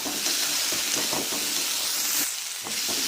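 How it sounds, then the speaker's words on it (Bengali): Ginger paste and salt are stirred in a hot frying pan, giving a close, constant sizzle with soft, rhythmic scraping strokes of a spatula. "হাফ চামচ আদা বাটা দিলাম আবারও ভালো করে নাড়বো"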